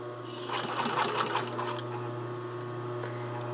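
A sewing machine runs steadily while stitching in a garment sleeve, a close, continuous mechanical hum with a fast stitching rattle that is strongest in the first two seconds, with no talk.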